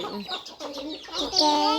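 Chickens cluck close by in a short, busy burst of rising and falling calls.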